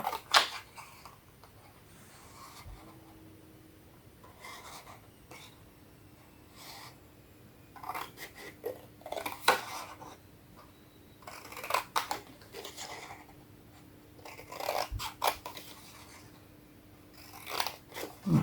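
Scissors snip through wrapping paper folded around a bottle, a series of short crisp cuts and rustles arriving in irregular bursts, close and fairly quiet, with no talking.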